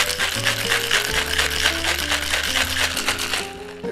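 A cocktail shaker full of ice rattles hard and fast in a dense, continuous clatter, loud and close, with a musical backing beneath it.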